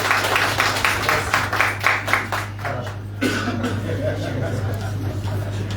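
Scattered applause from an audience at a Russia Day celebration, rhythmic clapping at first that thins out, with a low hum underneath and murmuring voices and a cough as it fades.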